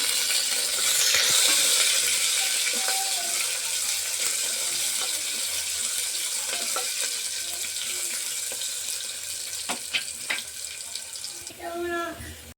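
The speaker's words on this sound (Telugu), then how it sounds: "ఇందులో పచ్చిమిర్చి వేసుకుంటున్నాను అందులోనే ఆనియన్స్ కూడా వేసుకున్నాను" Green chillies and onions fry in a pan, a constant bright sizzle with occasional clatters of stirring, and a voice joins near the end.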